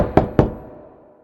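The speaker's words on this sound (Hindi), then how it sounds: "थम्बलीना ने दरवाजा खटखटाया" Two sharp knocks on a wooden door, close and loud, each fading into a short room echo, followed by quiet.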